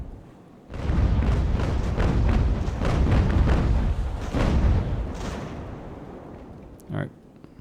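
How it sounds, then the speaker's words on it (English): Sailing ship cannons firing in the naval battle game Ultimate Admiral: Age of Sail, a rapid ragged series of booming broadside shots rolling into a long rumbling tail, then one last isolated thud. "Let me switch to cannon."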